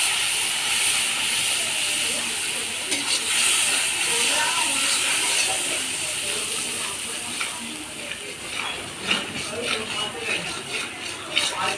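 Ground turmeric, chili and Kashmiri chili powder frying in a pan, giving a steady hissing sizzle with scattered crackles that grows busier toward the end, under a person talking.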